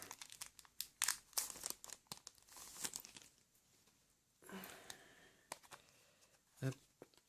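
A sealed Plasma Storm Pokémon booster blister pack is pried open by hand, producing close crinkling and crackling plastic with brief tearing bursts, quieter near the end, as a person speaks between the sounds.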